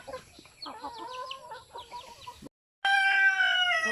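Chickens on a free-range farm cackle and cluck in a busy run of calls, then after a short gap a rooster crows loudly and close, drawn out and sustained.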